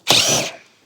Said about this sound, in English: I'm just going to use my drill here. Take out these 4 bolts.